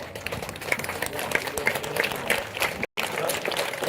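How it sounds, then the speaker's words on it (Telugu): An audience at a gathering claps steadily for the event organisers after being asked to stand, a dense crowd applause with scattered sharp claps, briefly cut out near the end before resuming. "అందరికీ గట్టిగా ఒకసారి చప్పట్లు కొట్టామమ్మా"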